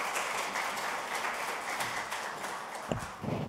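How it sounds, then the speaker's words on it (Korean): An audience applauds at a policy forum, steady crowd clapping that is soft and somewhat distant, thinning out toward the end with a few low thumps. "박수로 맞아주세요"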